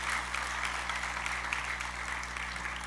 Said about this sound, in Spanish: Un aplauso entonces para ello.